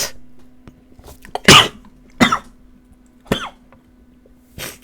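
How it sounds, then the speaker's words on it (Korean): Dry human coughs, several sharp separate bursts spaced irregularly over a few seconds, close to the microphone and alone with no talk, from someone still getting over a cold. "죄송합니다. 약간의 기침이 나왔는데"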